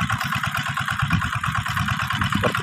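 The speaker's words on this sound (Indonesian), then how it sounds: "cukup menggunakan mesin traktor" A tractor engine runs steadily while planting peanuts in a field, a close, loud, continuous mechanical chug with a low pulsing throb and no voices.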